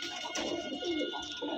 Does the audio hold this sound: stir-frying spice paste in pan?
no